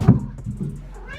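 A house cat gives one loud, close meow at the start, followed by softer trailing sounds and light knocks in a quiet indoor room.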